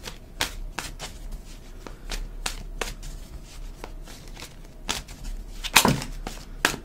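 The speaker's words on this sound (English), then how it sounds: "I've shuffled and shuffled." Tarot cards are shuffled by hand in a quiet room, giving a steady series of crisp, close riffling snaps and slaps at an uneven rhythm, with one louder flurry near the end.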